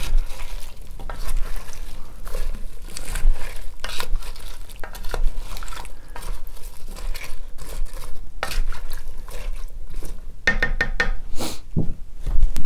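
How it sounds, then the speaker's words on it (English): A pot of beef with Worcestershire sauce gets a quick stir, with irregular scraping and knocking of a utensil against the pot over a soft simmering sizzle, a few sharper clanks near the end. "I'm going to give that a quick stir"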